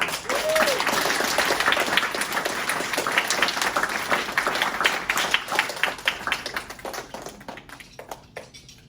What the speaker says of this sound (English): Let's have a round of applause for everyone.